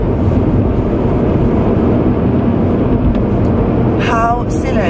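Steady, loud road and engine rumble fills the cabin of a car driving to work, continuous throughout with no breaks and a brief higher tone near the end.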